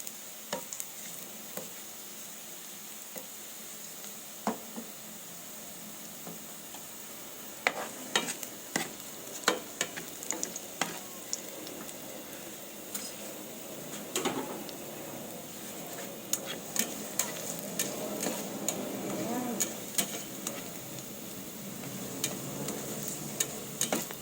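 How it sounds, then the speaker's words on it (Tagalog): Garlic cloves with their skins on sizzle quietly in hot oil, a soft steady frying hiss broken by scattered light pops and occasional stirring clicks. "Papula-pulain muna natin ating bawang. Sama yung balat."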